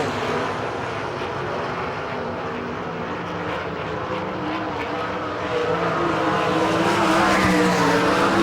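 Sprint race cars roar around a Florida dirt track at an All Star Circuit of Champions Speedweek event, a dense sustained engine drone that swells louder toward the end.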